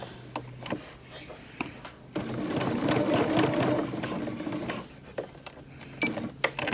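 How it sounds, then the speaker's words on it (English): A sewing machine stitches fabric around the mane of a 3D sewn piece in quick whirring bursts, louder through the middle, with brief pauses and faint clicks between runs. "stitch around here and follow the mane down here"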